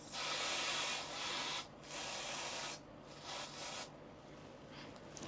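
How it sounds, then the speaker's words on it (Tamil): L'Oréal hair spray hisses from a can in several close bursts, a long continuous spray followed by shorter puffs with brief gaps between them, with no one talking. "இப்போது இங்கே இருக்கிற கேப்புக்கெலாம் நம்ம வந்து இந்த லாரியல் ஸ்ப்ரே அடிச்சுக்கலாம்"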